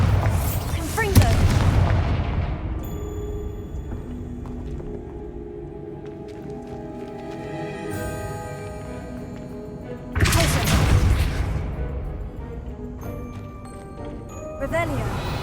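Bombarda and Confringo spell explosions in Hogwarts Legacy, two loud booming blasts about nine seconds apart, each decaying into a ringing, shimmering magical tail with a voice speaking around them.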